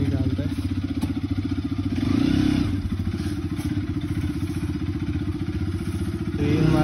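A motorcycle engine rumbles steadily at close range while the bike is worked out of a crowded parking area, its throbbing idle swelling into brief revs, with knocks and clatter around it.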